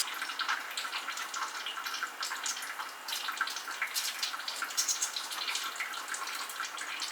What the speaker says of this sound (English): Maybe we can catch some of this mess about to come out of the water pump.